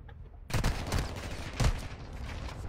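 Gunfire in Call of Duty: Warzone 2.0, two loud close bursts of rapid shots half a second and a second apart, each trailing into rumbling echo over a dull ambient bed.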